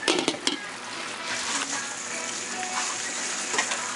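Beef and rice cooking in a pot for an African beef and spinach stew, with a steady close sizzle and a few clinks and scrapes of utensils early on, no talking.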